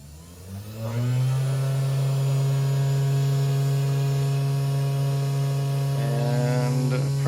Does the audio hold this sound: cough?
no